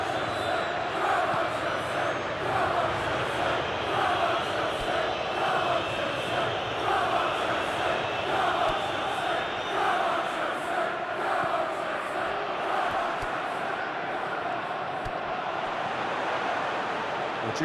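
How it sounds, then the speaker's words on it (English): Stadium crowd in the football video game SP Football Life 2025, a continuous roar of massed voices and chants with rhythmic pulses, steady and fairly loud, without talk over it. "the crowd have tried to spark some excitement, but to no avail"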